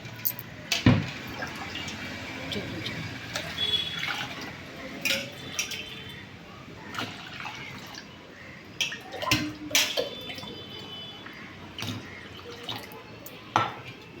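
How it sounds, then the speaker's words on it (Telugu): Water is poured and splashes into a bowl of smashed tomato juice, with intermittent drips, trickles and light clinks of a glass, fairly quiet and irregular. "ఇందులో ఇప్పుడు 3 గ్లాసులు వాటర్ పోసుకోవాలి."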